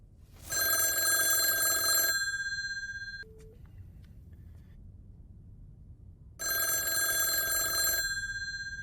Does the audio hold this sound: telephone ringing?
yes